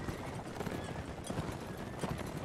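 Horses gallop in the medieval combat game Mount & Blade Warband, a dense, steady patter of hooves blended into continuous battle noise with no talk.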